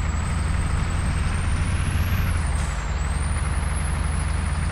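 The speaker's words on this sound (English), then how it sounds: "And listen to that sound of that engine." A MAN F2000 truck engine in Euro Truck Simulator 2 drones with a heavy, steady low rumble, while a thin high turbo whistle rises and dips above it throughout.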